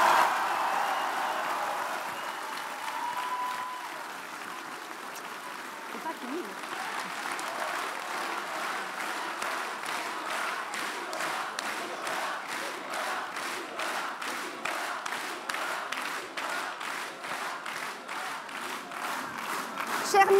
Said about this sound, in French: je vous demande de vous lever et d'applaudir notre président de cœur